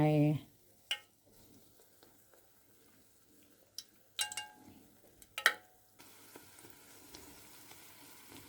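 Soft, steady sizzling of chicken patties deep frying in a pan, with a few sharp clicks and clatters of utensils scattered throughout.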